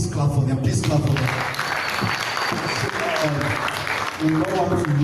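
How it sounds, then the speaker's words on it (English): Audience clapping at a youth leaders' summit hall, a sustained wash of applause mixed with talk and crowd noise, fairly close and loud, tapering slightly before swelling again near the end. "Please clap for them."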